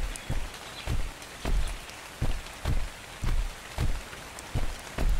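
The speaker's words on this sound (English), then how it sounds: "It's raining." Rain falls in the game Ark Survival as a dense steady hiss, punctuated by regular heavier thumps roughly twice per second, with no speech.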